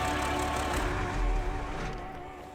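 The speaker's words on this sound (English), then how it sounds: "So let's switch the engine off" A heavy truck's engine in the snowy off-road driving game Snowrunner, Alaska map, rumbles steadily with tonal hum and low thumps, then its sound trails off as it is switched off.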